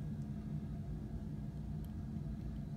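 Low engine rumble for a custom Hot Wheels car, a steady, deep, continuous idle-like drone that holds even throughout, with no talking.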